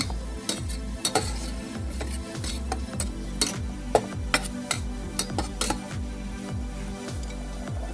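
Canned fish being stirred into a pot of boiling fermented fish broth, with a steady bubbling simmer underneath and repeated sharp clinks and scrapes of a utensil against the pot.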